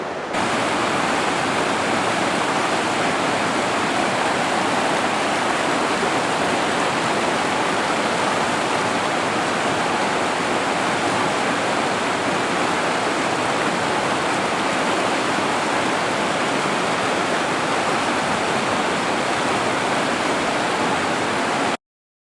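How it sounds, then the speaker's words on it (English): Heavy water roars steadily and continuously at Burney Falls, California, a thick unbroken rush pounding into the pool below, close and loud with no voices. "I'm standing at the height of the falls above the water in the pool"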